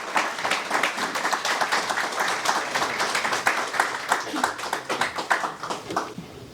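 An audience claps to welcome a speaker to the stage at an author event in an art gallery, with distinct, fairly sparse handclaps in a quick irregular rhythm and a faint voice underneath.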